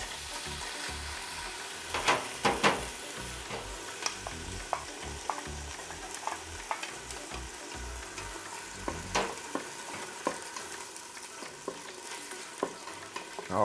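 Onions sizzle in hot oil in a Ninja Foodi multicooker while being stirred, a steady close frying hiss broken by repeated scraping and clicking stirs, with no talking.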